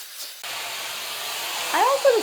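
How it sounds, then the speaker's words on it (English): A tiny travel hair dryer blows on hair, a close, steady airy whoosh that starts abruptly and runs throughout, with a voice briefly speaking over it near the end. "we blow dry our hair upside down"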